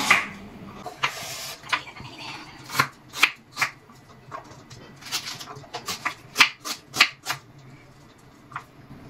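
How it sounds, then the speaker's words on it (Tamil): A knife chops an onion into pieces on a board, making a run of crisp, irregular close taps that cluster more densely midway through and thin out toward the end. "வெங்காயம் நல்லா ஸ்லைஸாகவும் போடலாம். நான் வந்து துண்டா கட் பண்ணிக்கிறேன்"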